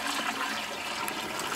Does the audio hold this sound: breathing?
no